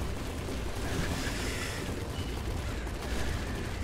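An in-game explosion goes off in the Nuclear Throne Ultra Mod video game. A dense, noisy burst rolls on under continuous action sounds for several seconds, fairly quiet overall.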